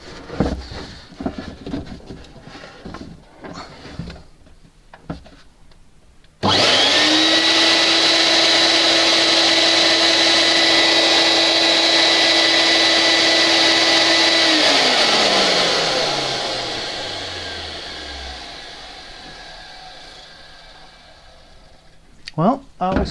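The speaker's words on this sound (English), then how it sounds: "One glorified vacuum cleaner ready to go." A Record dust extractor, just repaired after tripping workshop power, switches on abruptly and runs with a loud, steady vacuum-like roar and high whine, then switches off and spins down over several seconds; brief handling noises come before and after.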